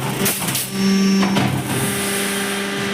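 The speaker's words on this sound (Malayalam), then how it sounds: "അതിന് കട്ടിംഗ് മെഷീൻ ഉപയോഗിച്ചിട്ടാണ് കട്ട് ചെയ്യുക." A sheet metal cutting machine works through steel parts for an electricity distribution box, giving a steady, loud mechanical drone with a sustained hum and a brief louder surge partway through, with no one talking.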